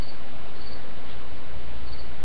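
Crickets chirp steadily and continuously in a high, dense drone, fairly loud and unbroken with no voices over it.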